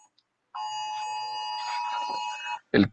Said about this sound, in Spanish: la alarma del toque de queda.